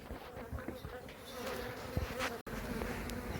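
Bees buzz steadily around an open beehive, a dense close hum with a brief break in the middle; a faint murmur of people sits low underneath.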